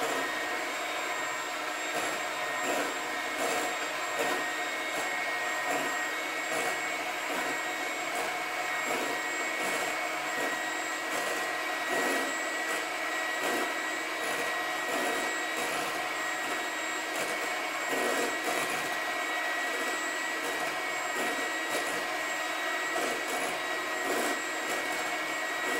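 An electric mixer whips chocolate caramel mousse with a loud, constant high whir that stays steady and unbroken for the whole stretch.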